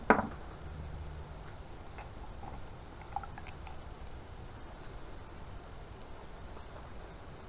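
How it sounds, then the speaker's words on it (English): Small parts from a thermostatic shower mixer tap fizz in a cleaning solution: a faint, steady hiss dotted with tiny ticking pops, with no talking. "that's fizzing nicely"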